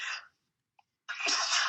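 A single sharp sneeze bursts out near the microphone after a short quiet pause, with a brief burst of speech just before it.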